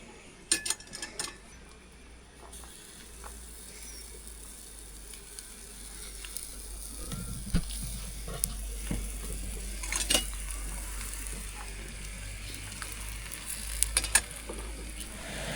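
Oil heating and food starting to sizzle in a pan on a camp stove during a motorcycle trip in Montenegro, a quiet steady crackle with occasional clinks of utensils and no talking.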